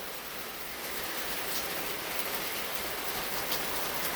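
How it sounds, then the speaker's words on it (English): Heavy rain pouring down, a steady, dense hiss of falling water holding even throughout, moderately faint and without voices. "It is pouring down rain"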